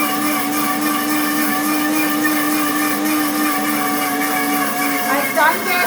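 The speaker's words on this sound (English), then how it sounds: "We're just blending the butter." Butter being blended in a blender on its smoothie setting: a loud, steady motor whine with strong tonal hum, continuous and close, with a slight shift near the end.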